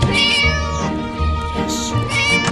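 A cat in the Scary Teacher 3D video game meows loudly and close, a drawn-out whining meow followed by another rising cry.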